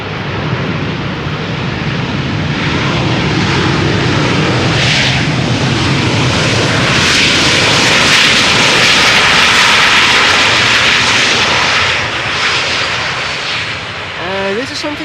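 Transavia jet landing at Amsterdam Schiphol's Polderbaan runway, its engines roaring up loudly as thrust reversers deploy, a broad sustained rumble swelling then easing, heard outdoors from nearby.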